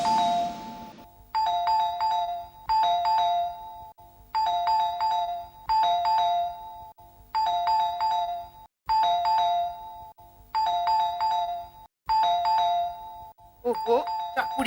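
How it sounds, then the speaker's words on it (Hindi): A two-tone doorbell chimes over and over in quick bursts, loud and close, with brief pauses between rings and a voice cutting in near the end. "इतनी जोर जोर से घंटी बज रही है, दरवाजा क्यों नहीं खोल रही है?"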